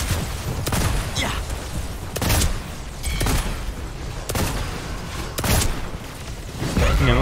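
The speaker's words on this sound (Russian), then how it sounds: "Да, дробовик." Shotgun blasts in the video game Paragon The Overprime come as a series of loud, booming shots spaced about a second apart, mixed with game effects and no speech.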